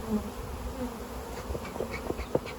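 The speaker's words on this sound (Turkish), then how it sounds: "Bak tarlacılar uçuyor." Honey bees buzzing as they take flight from an opened hive during colony splitting, a close, steady drone with individual bees zipping past.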